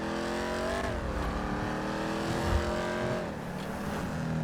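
A Camaro engine in FiveM roars and revs, pitch rising and then dipping as the throttle changes, loud and close, with a brief tire squeal mid-way and no talking.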